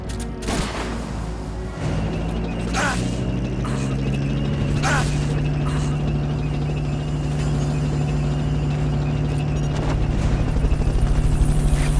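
A helicopter in the video game Metal Gear Solid Peace Walker gives a steady, loud rotor-and-engine drone that runs the whole time, with a few sharp game effects layered over it.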